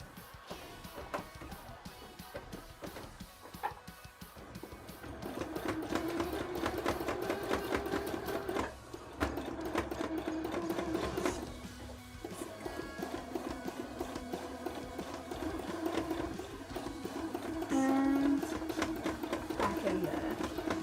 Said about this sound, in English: But also hardcore sewing for a background.